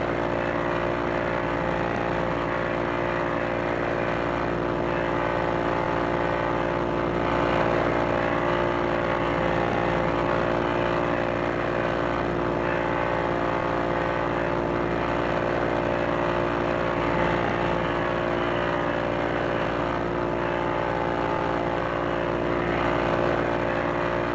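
A WWII P-40E Warhawk fighter's propeller engine in a VR flight game drones steadily and evenly throughout, a constant mid-loud hum with no talk.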